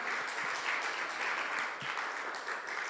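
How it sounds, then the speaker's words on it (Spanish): A church congregation applauds in a continuous, even wash of clapping, moderately loud and steady throughout with no voices standing out. "Así dele ese fuerte aplauso al Señor"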